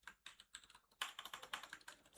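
Rapid, steady clatter of keys on a computer keyboard while code is typed, close and clear with a brief pause before a denser burst.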